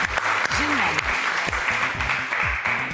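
A talent show audience claps for a contestant in a steady, moderate wash of applause under loud, rhythmic music, with a few sharper hits standing out.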